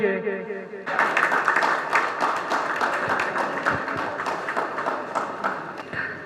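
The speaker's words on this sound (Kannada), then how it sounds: "ತಮ್ಮ ಒಂದು ಜೋರಾದ ಚಪ್ಪಾಳೆ ಮೂಲಕ ಇವರಿಗೆ ಅಭಿನಂದನೆ ಸಲ್ಲಿಸೋಣ." After a moment of speech, an audience at a student award ceremony breaks into sustained, fairly close clapping for a recipient on stage, with dense many-handed claps continuing to the end.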